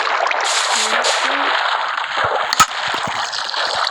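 Water pours and gurgles from a bucket in Minecraft, a steady close wash of sound with a short splash partway through.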